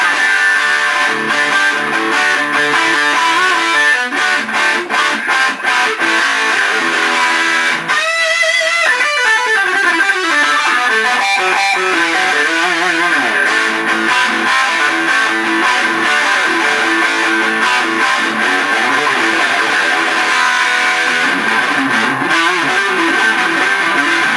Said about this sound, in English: Full distortion, no squealing.